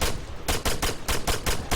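Gunfire in the Epoch mod survival shooter game, a rapid series of about eight loud, sharp shots in a quick uneven rhythm, close and clear with no talking.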